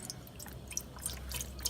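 Chicken broth pours into a cooking pot for grits, a faint, steady liquid trickle with scattered drips and splashes, close by and without talking.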